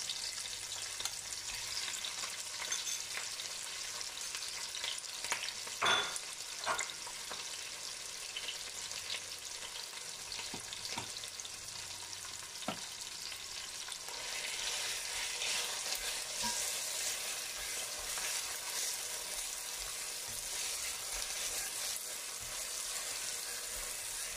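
Peanut sauce with eggplant and salted fish sizzles steadily in a pan, with scraping stirs and occasional sharp utensil knocks; the frying grows louder and brighter in the second half, with no talking.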